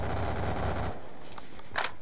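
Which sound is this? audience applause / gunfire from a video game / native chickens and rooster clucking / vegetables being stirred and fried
gunfire from a video game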